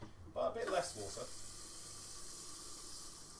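Filtered tap water runs into a pot in a home kitchen as a steady, even hiss that holds to the end, after a brief moment of talking at the start.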